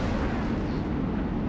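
Dense, booming gunfire and blasts pound continuously in the video game Halo: Reach as the player takes hits, a loud, unbroken wall of low rumbling impacts with no pauses.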